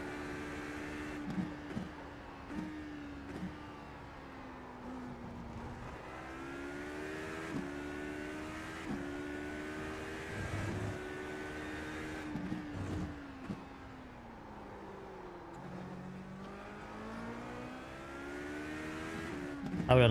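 An Aston Martin GT race car engine in an iRacing sim race at Portimão drones steadily, with a rhythmic pattern of upshifts, downshifts and revs rising and falling through corners, no talking.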